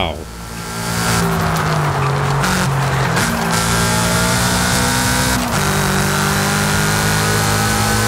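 In Forza Horizon 5, a Subaru S209 with a 731-horsepower standard engine accelerates with a loud, close engine roar that steps up through several shifts, holding its raspy tone steadily to the end.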